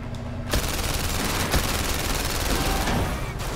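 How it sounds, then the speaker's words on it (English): Rapid automatic gunfire from the PlayStation VR Worlds heist game, a dense continuous fusillade of shots filling the whole moment, loud and close with no talking. "Can I shoot backwards as well?"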